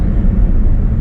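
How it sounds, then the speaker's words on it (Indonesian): Steady low engine and road rumble heard from inside a car cabin while it overtakes a truck on the road, a dense, even drone with no distinct peaks and no talking. "Ini suara truk ini hampir gak kedengeran."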